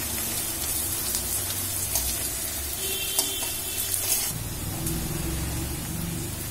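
Sliced onions and sugar frying in hot oil for Bengali katla fish kalia, a steady close sizzle with crackling spits and a brief scrape of stirring partway through.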